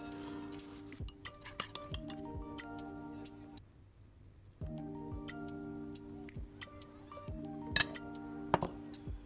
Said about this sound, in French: on va bien mélanger le tout pour bien lier tous nos ingrédients